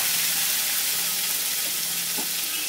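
Ginger paste and green chili paste hit hot oil over fried tempering spices, giving a steady, loud, close sizzle that crackles evenly throughout with faint stirring.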